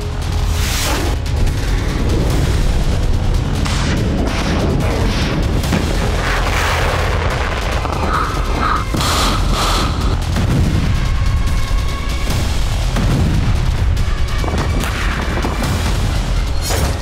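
Missile strikes and heavy bombardment during the Russia-Ukraine war, loud rumbling booms and explosions rolling one after another, dense and continuous with sharp bursts over a deep low roar.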